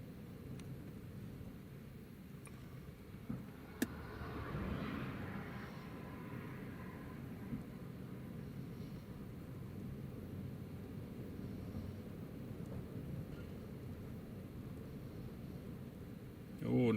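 An Airbus A330 takes off at Newcastle International Airport, a low steady jet rumble that swells briefly and then holds at a distant, moderate level for the full length.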